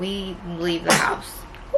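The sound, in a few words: a sneeze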